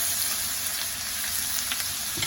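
Chopped onion frying in hot butter gives a loud, dense, continuous sizzle close up, with a few brief stirring scrapes over the steady hiss.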